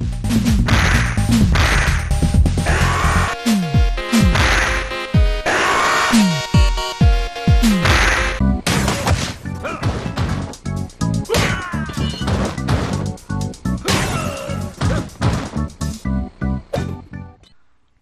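Punches, kicks and weapon hits land in Streets of Rage 4, a run of loud, sharp impact thwacks and crashes in quick bursts over a driving game soundtrack.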